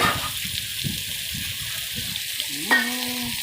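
Tomatoes with salt for tomato rice fry in a pan with a continuous hiss, while repeated scraping stirs give a loose rhythm at close range.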